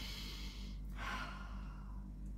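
A single deep breath drawn in and let out around the one-second mark, a soft airy rush that swells and fades, close and quiet over a low steady hum, with no talking.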